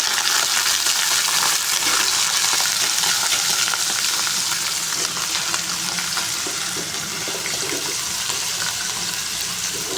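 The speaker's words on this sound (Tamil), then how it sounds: "ஒரு அடுப்பில் உருளைக்கிழங்கு இன்னொரு அடுப்பில் தோசை ரெண்டுமே ஒரே டைமில் செஞ்சிட்ருக்கேன்" Potatoes frying on one stove burner while dosa cooks on another: a loud, dense, unbroken hiss of sizzling oil that holds steady throughout, easing slightly toward the end.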